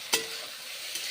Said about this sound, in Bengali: মুগের ডালগুলো এখন দিচ্ছি।